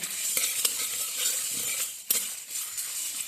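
Whole spices for chyawanprash frying in a pan, a soft continuous sizzle broken by scraping stirs and light utensil clinks, close up with no voices.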